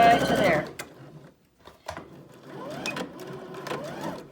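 A sewing machine stitches a straight seam on a fabric apron, a dense, loud mechanical whir that stops briefly, then a softer run of stitching resumes alongside faint rattling.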